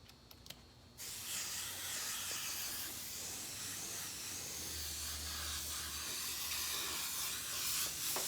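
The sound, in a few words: airbrush spraying paint onto a hoodie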